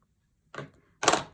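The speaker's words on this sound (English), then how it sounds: "We are also going to stamp the balloon, and we're going to stamp this 3 times" A rubber stamp is pressed onto card paper twice, two soft close thumps about half a second apart, the second heavier, with silence around them.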